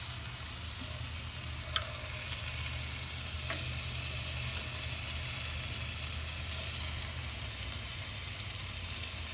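Carrot dogs sear with juice on a hot skillet, giving a steady, even hiss of frying that runs throughout, with a couple of faint clicks and no voices.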